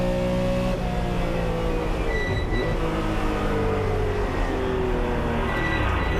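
Vintage race cars including a Datsun Z and Porsche 935 K3s roar past on a circuit at a historic reunion race, engines loud and continuous with overlapping tones that rise and fall as they pass close by.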